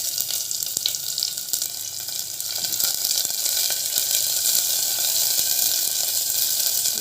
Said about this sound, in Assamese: পিঁয়াজখিনি অলপ ভাজি আছোঁ।